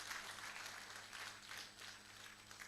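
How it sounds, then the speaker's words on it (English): Audience at a Kisii University innovation week event applauding a presenting group, a steady faint wash of many hands clapping throughout with no pauses. "Please just continue clapping."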